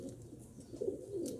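Pigeons coo softly in the background, with low, throaty warbling calls repeating over a faint murmur.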